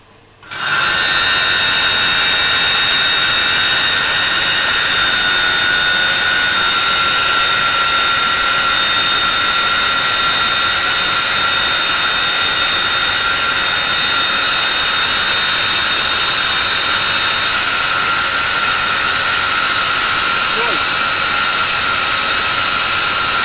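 A bench grinding wheel spins up and grinds metal in a steady, loud, high-pitched whine with a harsh hiss that runs continuously for the full stretch, close by.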